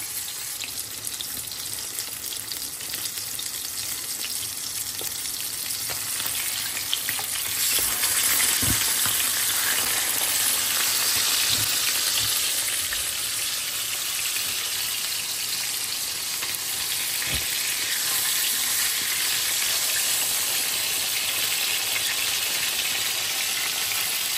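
Tomato fries in a little oil in a pan alongside fish, giving a loud, steady sizzle with occasional faint clicks and stirring that carries on for the whole stretch.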